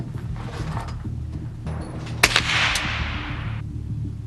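A single sharp gunshot from a .22 nail gun blank firing a pellet cracks out, followed by a short fading ring, with quiet background hum around it.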